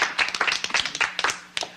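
An audience gives the Poco puppets a big hand, a burst of close, brisk clapping in an uneven patter under a faint steady hum.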